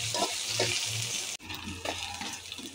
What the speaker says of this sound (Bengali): খুন্তি দিয়ে আমি এভাবে নেড়ে নেড়ে তারপরে পেঁয়াজগুলো একটুখানি ছুটিয়ে দিচ্ছি